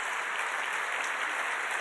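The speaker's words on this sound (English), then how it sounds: "Let's give Phil one more round of applause in St. Jude Medical" Steady applause from an audience at a heart benefit gala, dense continuous clapping at an even level throughout.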